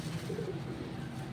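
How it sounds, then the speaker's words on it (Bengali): Several pet pigeons coo softly and continuously, low rolling calls repeating close by at modest volume, with no voices over them. "এগুলো আমার কবুতর"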